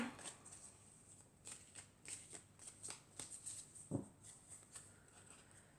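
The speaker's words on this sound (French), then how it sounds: "je vais prendre encore 4 cartes" Tarot cards are shuffled and drawn by hand, giving a run of crisp riffling flicks and soft slaps in an irregular rhythm, close and fairly quiet, with no talking over them.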